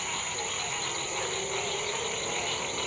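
Crickets and frogs call together in the woods at night, a dense, steady chorus of high trills and croaks filling the background at low volume.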